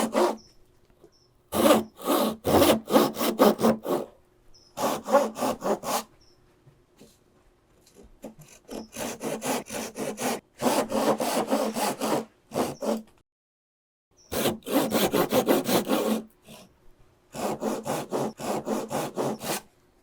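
Hand saw cutting through wood for joinery, heard as repeated bursts of rhythmic back-and-forth strokes separated by short pauses, close and clear with no talking.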